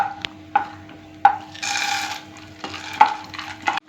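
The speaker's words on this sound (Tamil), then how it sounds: "ஒரு ஸ்பூன் ஊற்றி இப்போ முந்திரியை போட்டுக்கிறோம். அது லேசாக சிவக்கும் போதே இந்த நிலக்கடலையும் வறுத்து எடுத்துக்கிடுவோம் தனியாக." Cashews and then peanuts roast in a spoonful of sesame oil in a pan, with a light sizzle, a few sharp clinks of a spoon on the pan, and short scraping stirs.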